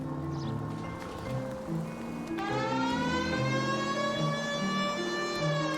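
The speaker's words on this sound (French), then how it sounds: "Un coup de sirène." A police car siren wails in the video game L.A. Noire, a loud steady rising tone over a rumbling engine and street noise, continuing without pause.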